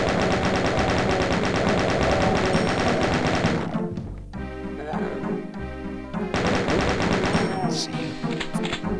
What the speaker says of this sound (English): Yeah, chain gun.